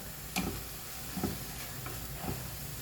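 Spring onions fry in a pan over high flame on a small burner, with a faint, even sizzle and three soft scrapes as they are stirred.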